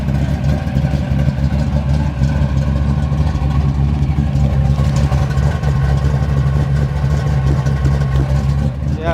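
A 1967 Chevrolet Camaro SS pro-touring car with a built 383 stroker and Flowmaster exhaust idles with a deep, steady, burbling rumble, loud and close throughout.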